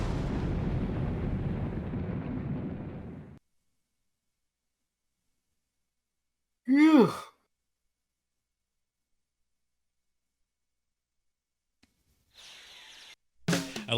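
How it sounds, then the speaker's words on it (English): Explosions in the 1998 video game Sonic Adventure: a long rumbling blast fading out over about three seconds, then silence broken by a short crackling burst and a later sharp cluster of pops. "I love the explosions."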